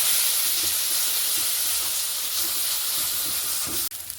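Spice mixture with a little water boiling hard in a pan for a Bangladeshi chicken curry, a steady loud hiss of steam and bubbling that cuts off abruptly near the end.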